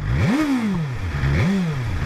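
A 2023 BMW S1000XR TE motorcycle's inline-four engine is blipped twice, each rev rising sharply and falling back, loud and close with a rough, clattering idle in between.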